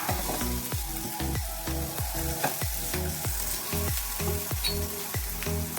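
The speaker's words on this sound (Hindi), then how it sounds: "और साथ ही ये कटे हुए आलूओं को हम डाल देंगे।" Cut potatoes for a Spanish omelette sizzle and fry steadily in a pan, with rhythmic stirring scrapes repeating about twice a second over the continuous crackle.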